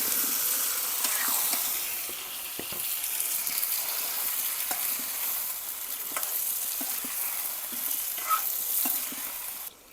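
Cucumber curry tipped into spices frying in a pan, giving a steady moderate sizzle and hiss with occasional stirring clinks and scrapes.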